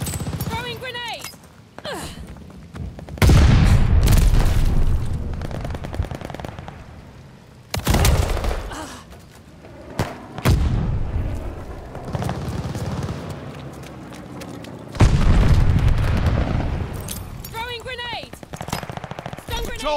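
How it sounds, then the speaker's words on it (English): Grenade blasts in the Call of Duty: Vanguard multiplayer shooter: three heavy, booming bursts roughly a few seconds apart amid steady rattling gunfire, with in-game voices calling out over the action. "Throwing grenade"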